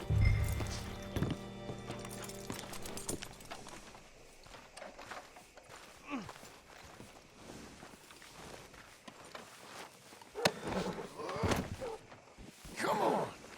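A horse's hooves clip-clop in Red Dead Redemption 2, faint, irregular hoof knocks in a quiet outdoor town scene, with brief game voices and a low background tone early on.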